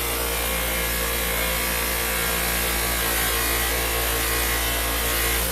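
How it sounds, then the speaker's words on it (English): A buffing wheel polishing an aluminum part gives a steady, loud, dense rushing whir with a constant motor hum beneath, unbroken throughout. "when I'm working at it, the wheel's rotating down and your workpiece is being pulled down to the floor"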